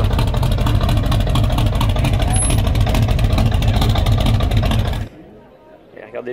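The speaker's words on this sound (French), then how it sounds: "Une de ces trois big blocks, 454. Là, écoutez, là, faut ouvrir grand les oreilles." A Mercury Cougar with a 454 big-block V8 and custom exhaust roars loudly and steadily up close for about five seconds, then cuts off abruptly into near quiet.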